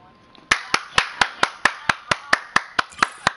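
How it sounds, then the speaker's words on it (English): People clap in a quick, even rhythm during a Rocket League gaming session, about a dozen sharp claps close to the microphone. "Clap it up for Joe, everybody."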